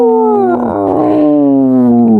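Human voices imitate whale calls, a loud, close, drawn-out moaning cry with sliding pitch that holds for about two seconds, with a second voice joining it in the middle.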